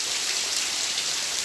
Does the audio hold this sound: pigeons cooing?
no